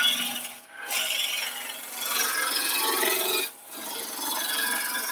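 A traditional continental woodturning gouge roughs down a spinning workpiece on a lathe, giving a steady rasping, scraping cut that pauses twice briefly as the tool lifts away, then resumes at a close, moderate level.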